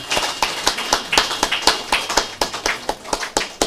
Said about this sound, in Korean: 우리 큰 박수로 축복하겠습니다